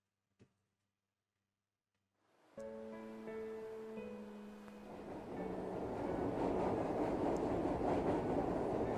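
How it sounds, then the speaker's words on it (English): A tram in The Legend of Heroes: Trails of Cold Steel rolls in after a moment of silence. Its rumbling, tonal hum builds into a broad, steady roar of running that grows louder toward the end. "It's a tram!"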